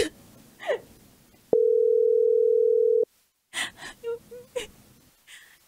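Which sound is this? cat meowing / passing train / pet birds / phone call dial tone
phone call dial tone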